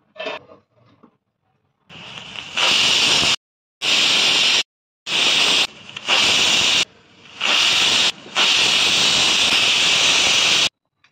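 A pressure cooker full of chickpeas vents steam in loud, close hissing blasts, five or six bursts broken by short silences after a few faint clicks at the start.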